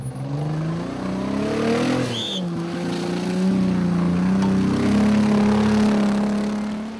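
Off-road rally car fitted with a powerful Jeep 4000 engine, working at rally-raid pace; a loud, steady engine drone with pitch rising and shifting as it revs, continuous and close throughout with no talk.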